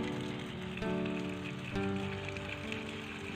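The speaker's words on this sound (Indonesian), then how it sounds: "jadi kita harus siram seperti ini." Water splashes and patters steadily onto tomato plants and soil in polybags, a close, continuous spray with a faint mechanical hum running underneath.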